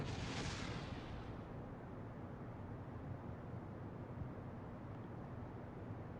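A rocket stage separates and the next engine ignites in the space game Kerbal Space Program: a brief hissing burst at the start, then a steady, dense roar of engine thrust continuing throughout, distant and muffled.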